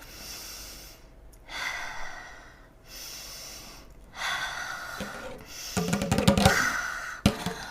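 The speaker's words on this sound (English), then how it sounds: "Breathing, friends." Slow breathing during a guided meditation: a few soft, airy breaths with quiet pauses between them, then a louder, rougher burst of exhaling and snorting near the end, close up with no talk.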